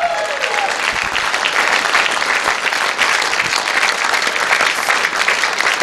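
Sustained applause from a large audience at a live event, loud and steady across the whole stretch, with a faint voice briefly audible at the start.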